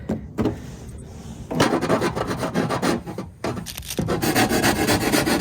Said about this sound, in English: we're just gonna file it with our big files first, metal files